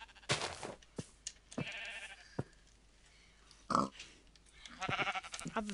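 Sheep bleating in a video game, a few short cries scattered among other game sounds, moderately loud with no talk over them.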